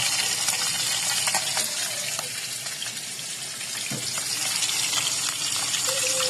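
Hilsa fish head frying in hot oil, a steady loud hiss and sizzle throughout with small crackles and pops, close up.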